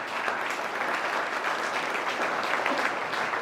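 A crowd at a talk inside Muhammad Mosque No. 7 applauds, producing a thick, even burst of clapping that holds steady and loud from start to finish with no voices over it.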